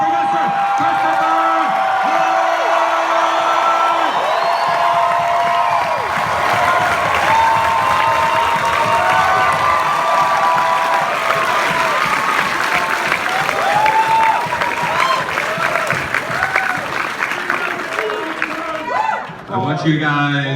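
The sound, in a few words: audience applause and cheering for a guest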